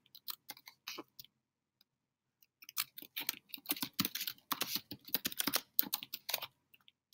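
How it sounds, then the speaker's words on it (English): Typing on a computer keyboard while entering a greeting message for a chatbot, heard as bursts of close, crisp key clicks with short pauses between them, then a denser run of rapid keystrokes. "So we'll simply click on bot message and type in what we want to say."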